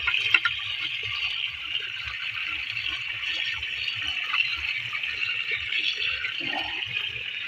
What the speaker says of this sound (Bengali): এই যে যাচ্ছে জল ধানের জমিতে